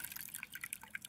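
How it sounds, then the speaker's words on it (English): Water from a rain barrel nozzle falls into a watering can in a school garden as faint, quick, irregular drips and trickles. "what I've been doing while we have been videoing is filling up our watering can"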